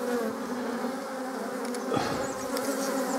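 A dense, continuous hum of honeybees fills an open beehive during queen supersedure, steady and close with a slight swell near the middle.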